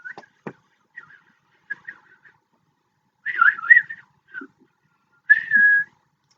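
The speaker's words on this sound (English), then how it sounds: "I'm not a very good whistler." A person whistles unsteadily in a quiet room, giving short breathy tones at first and then two longer wavering phrases. The whistling is close and clear, with small clicks between phrases.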